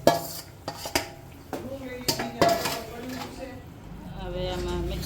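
Boiled vegetables being stirred in a metal pot, with a spoon clinking and scraping against the sides in irregular knocks, followed by softer mixing sounds, while someone talks.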